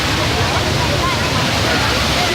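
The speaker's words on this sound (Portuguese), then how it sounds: "A cachoeira lá na ponta" A waterfall at the far end of a beach roars in a steady broadband rush, loud and continuous with no pauses.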